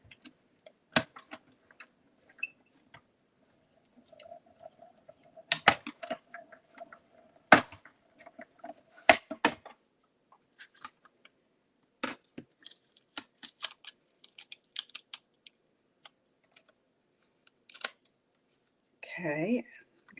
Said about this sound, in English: we're going to cut out the gnomes.